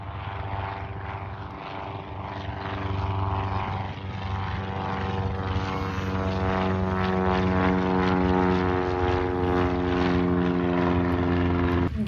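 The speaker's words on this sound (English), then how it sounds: "Enjoy this Cessna 172 taxiing past" Cessna 172 propeller plane taxiing at Jandakot Airport, its engine droning with a steady buzzing hum that grows gradually louder as it passes close by.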